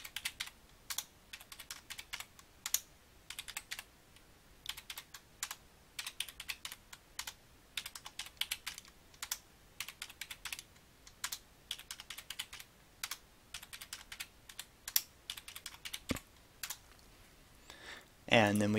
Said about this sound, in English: Using a spreadsheet, we can type the data in,